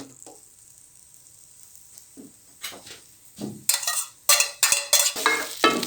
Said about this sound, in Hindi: प्याज को अच्छी तरह सुरख कर लेंगे।